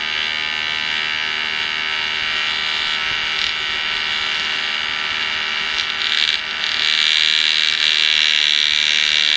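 An electric motor spins a slotted disc, giving a steady, close, high whining buzz that stays constant apart from a brief dip near the end.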